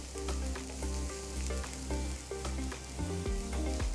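Onion and garlic sizzle steadily in a frying pan, a continuous close crackle with occasional soft stirring clinks.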